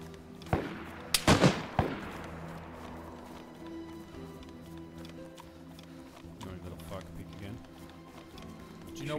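Gunfire in the survival video game DayZ comes as a quick cluster of sharp shots early on, followed by a steady low background while players talk over it.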